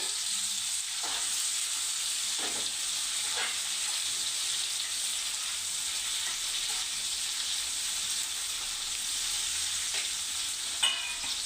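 Green chillies fry steadily in hot oil, a constant close sizzle and hiss with a few faint pops and stirring scrapes, no voices.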